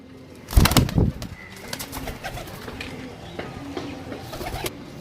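Desi pigeons up close, with a burst of wing flapping followed by soft, repeated cooing and rustling.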